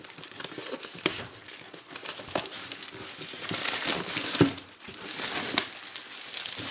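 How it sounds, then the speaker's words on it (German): Plastic wrap film is peeled and cut with a kitchen knife off a large shoebox-sized fan box, a steady close crinkling and tearing with small crackles, no talking. "Als erstes machen wir erstmal wieder die Folie ab."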